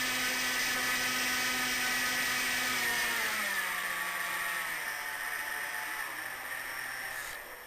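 An FMS 800mm P-51 model airplane's electric motor whines loudly up close, its pitch rising then easing down through the power range before tapering off at the end.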